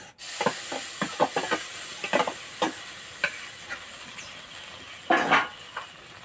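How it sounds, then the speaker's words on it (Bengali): Sago mixture fries in a wok, a steady low sizzle broken by a series of irregular scraping stirs, with one louder, longer stir near the end; close and clear with no talking. "সাবু মাখাটা কড়াইয়ে দিয়ে দেব।"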